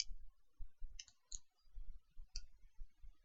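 A computer mouse clicks sharply while someone works in CAD software: a quiet, irregular series of separate taps and double clicks, close by in a silent room.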